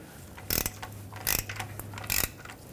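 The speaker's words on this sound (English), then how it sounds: "I'm going to torque this mounting nut to 40 foot-pounds." A torque wrench ratchets in three short bursts while tightening the starter mounting nut on a 2006–2010 Hyundai Sonata 2.4L four-cylinder. Each burst is close, crisp clicking, separated by quiet pauses.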